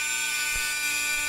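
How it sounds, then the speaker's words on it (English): A small rotary tool with a sandpaper wheel bit notching wood for a dance pad build, giving a steady high-pitched whine close by with a brief low thump partway through. "the idea is just use this little sandpaper wheel bit thing"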